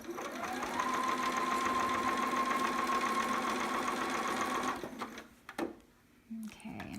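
A sewing machine stitches around the seam and leg hole of a Nora sitter romper, humming in one steady whir for several seconds before stopping, followed by brief fabric handling.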